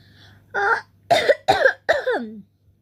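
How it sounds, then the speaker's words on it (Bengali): A person's coughing fit: a soft lead-in, then four sharp, close coughs in quick succession, the last one trailing off raggedly. No talking is heard. "কথা বলতে বলতে কাশি উঠে গেছে"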